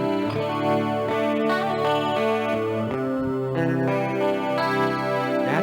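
Electric guitar played through a harmonist effect pedal, sustained chords layered with shimmering pitch-shifted harmonies, loud and continuous with no talking.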